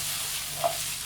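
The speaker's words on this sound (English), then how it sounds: "I'm going to brown it in the pan." Ham browns in a frying pan for a frittata, a brief, even sizzle with a small stirring scrape partway through.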